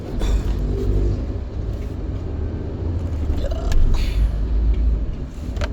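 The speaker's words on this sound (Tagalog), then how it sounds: "Ay nako, ang traffic dito sa side ko." Congested road traffic heard from a slow-moving motorcycle, a continuous low engine rumble with passing cars and occasional revving, close and fairly loud, with no talking.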